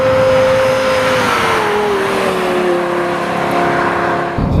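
Lexus LFA V12 engine driving fast, a loud sustained wail with a steady, slowly falling tone that holds for several seconds before briefly easing near the end.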